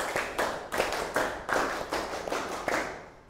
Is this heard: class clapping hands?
yes